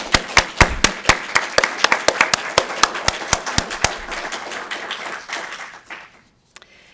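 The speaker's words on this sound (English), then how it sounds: "So let's just clap for Jan" A small audience at a university poetry reading claps for a departing colleague, sharp distinct claps close by that thin out and fade over about six seconds, ending in near silence.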